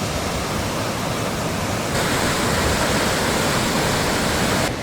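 A waterfall at Huilo Huilo in Chile, heard from a viewpoint facing it, pours as a loud, dense, unbroken roar that fills the whole stretch, with no voices.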